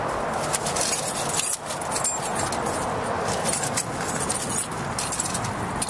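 Metal keys jangle and rattle loudly and continuously, up close, as someone rummages for the keys to a 1985 Ford LTD Country Squire station wagon, with no speech.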